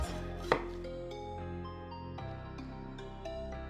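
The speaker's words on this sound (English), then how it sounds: "So let's start with our peppers. I like to make like a slit" A knife slices a slit into a pepper on a cutting board, giving a few crisp close cuts and taps over a quiet, humming kitchen background.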